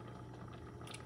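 A pot of water with sausage in it bubbles softly over high heat, a low faint simmering burble with a few brighter pops near the end and no speech.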